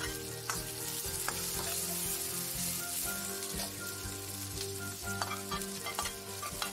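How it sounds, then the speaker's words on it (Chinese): Small onions and green peppers stir-fry in a hot wok, giving a dense, steady sizzle with close scraping stir strokes throughout and no talk. "加入小洋葱，炒香，然后加入青椒"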